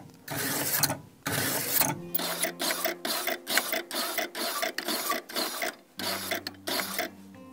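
A kitchen knife drawn through a V-shaped diamond knife sharpener: a quick series of short, gritty scraping strokes, close and distinct, with brief gaps between passes.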